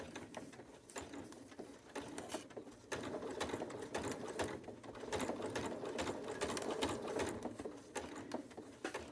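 A sewing machine runs steadily, stitching quilt fabric for a Tula Pink Butterfly quilt block with a 1/4 inch foot. It gives a close, continuous rapid mechanical chatter with slight changes in speed.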